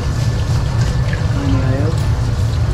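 Tap water runs steadily in a home kitchen, a continuous close rushing stream lasting throughout, with faint tonal sounds over it.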